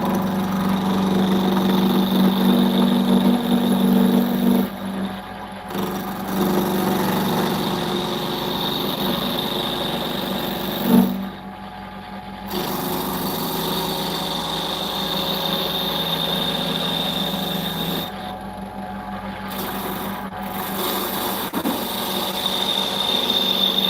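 A roughing gouge cuts a spinning workpiece on a wood lathe, a steady motor hum with a continuous scraping cut that drops away briefly a few times before resuming. No one speaks.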